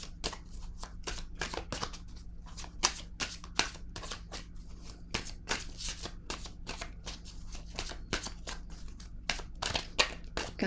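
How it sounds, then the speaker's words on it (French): Oracle cards shuffled and drawn by hand in a steady run of crisp, close riffling flicks, sounding alone without any talk. "Je vais piger maintenant une carte, un message de l'univers pour vous."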